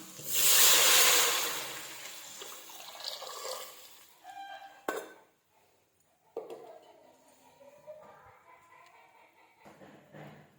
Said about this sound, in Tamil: இப்போ நம்ம அளந்து வச்சுருக்க தண்ணியை இதில் ஊற்றிடலாம்